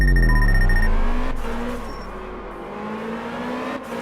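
A car spinning out of control in the drifting game Absolute Drift, engine revving loud and close at first with a high whine, then settling into a lower steady drone as it slides.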